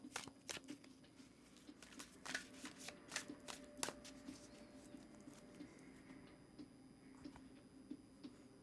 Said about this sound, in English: I am going to go ahead and give the deck a really good shuffle for you